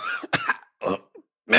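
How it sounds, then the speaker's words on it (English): A coughing fit set off by a cloud of pantry dust: several harsh, close coughs and throat-clearing bursts in quick clusters with short gaps between them. "you find nothing but a cloud of dust that drives you into a coughing fit"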